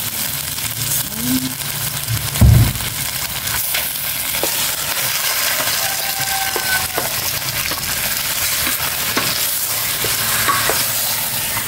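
One kilo of pork sautés in hot oil with a loud, continuous sizzle, while a utensil stirs and scrapes the meat around the pan. One heavy clunk comes early, and the frying stays close and steady.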